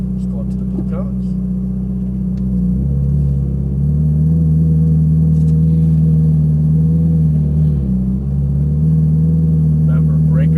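Ferrari 458 Italia idling and rolling off slowly on a racetrack, a loud steady low engine drone with a brief dip in pitch partway through, under an instructor's spoken directions.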